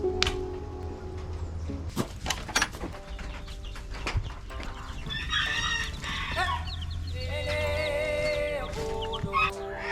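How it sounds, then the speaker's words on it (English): Chickens cluck and squawk close by in a busy, continuous stream, with a rooster's crow rising partway through and a few sharp knocks underneath. "I'm just addicted to chickens. I love chickens"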